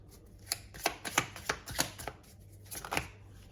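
Tarot cards being shuffled for a reading, giving a run of soft, papery riffling bursts and flicks in an uneven rhythm, close by and fairly quiet, with no talking.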